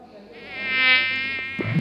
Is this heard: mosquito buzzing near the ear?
yes